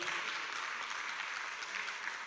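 An audience at an international memorial event for the victims of the Joola ferry applauds, a steady, close wash of clapping through the whole short stretch.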